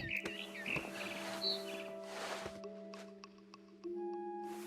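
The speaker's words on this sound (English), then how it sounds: "Then I heard chirping outside my window. It was a barn swallow going back to her nest." In the video game What Remains of Edith Finch, a barn swallow gives short, bright chirps amid sustained tonal game sounds and soft ambience.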